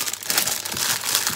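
Cellophane bag crinkling as a flower-shaped glitter soap is packed as a gift, with steady close crackling rustles over a short stretch and no voice.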